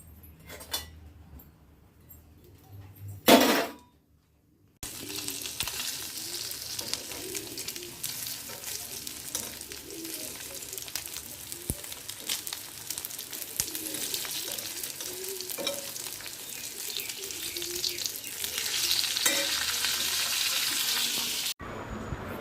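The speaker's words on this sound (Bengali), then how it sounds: "চলো মাছ ভাজা করে নিই" Fish sizzles in hot oil in a home kitchen pan, a steady loud crackling hiss that runs continuously for about seventeen seconds after a brief clatter and near silence at the start.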